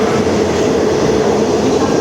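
Steady, loud roar of a high-speed train going by close at hand on the Kalaburagi railway line, with continuous wheel and carriage rumble throughout.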